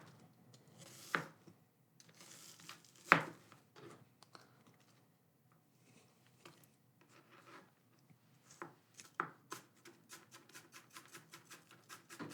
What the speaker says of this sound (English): It's a very, very hard onion, and it is so buttery smooth and wonderful to cut right through.